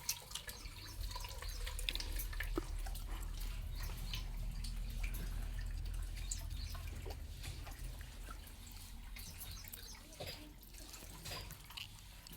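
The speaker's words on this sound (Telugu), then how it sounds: "మా అవ్వలు ఇద్దరు నీళ్ళు పడుతుర్రు. నల్లొచ్చింది." Tap water runs steadily into a vessel being filled outdoors, a continuous splashing gush that later thins to trickles and drips, with no voices heard.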